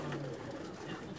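Pakistani pigeons coo on a rooftop loft in Jeddah, with a low, soft coo near the start over a steady, busy background murmur.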